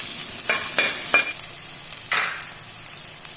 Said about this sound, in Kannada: 1 ಈರುಳ್ಳಿಯನ್ನು ಹೆಚ್ಚಿಬಿಟ್ಟು ಹಾಕ್ಕೊಂಡಿದ್ದೀನಿ. ಅದನ್ನು ಫ್ರೈ ಮಾಡ್ಕೊಳ್ತಾ ಇದ್ದೀನಿ.